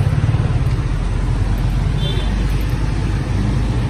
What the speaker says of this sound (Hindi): मोहम्मद अली चौक की ट्रैफिक है ये।